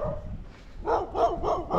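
A dog, the most vocal of a group of seven or eight met on a lakeside walk near a campervan stop, lets out a run of four or five close, loud barks in quick succession.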